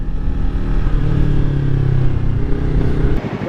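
A 2019 Yamaha R3 motorcycle rides through city traffic with a loud, steady engine drone heard close up that cuts off sharply just before the end.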